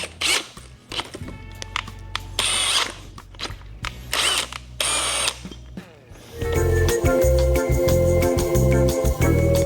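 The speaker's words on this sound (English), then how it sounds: "We're gonna drill this as far as I can" A power drill whirs in bursts with pauses, then grinds steadily and loudly as a large handheld Forstner bit bores into wood.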